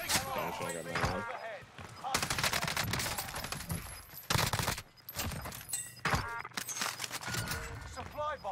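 Rapid automatic gunfire from a Call of Duty match on Rebirth Island, with dense bursts and sharp shots close by and a voice speaking between and over the volleys.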